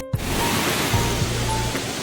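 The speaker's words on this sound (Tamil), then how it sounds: "ஃபால்ஸ் இங்கே ஊற்றுது" Mankayam waterfall in the Kerala hills pouring after heavy forest rain, a steady loud rushing hiss of falling water with a few faint low thumps.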